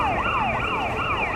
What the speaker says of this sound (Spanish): la inusual escena de patrullas policiales y una ambulancia rodeando el local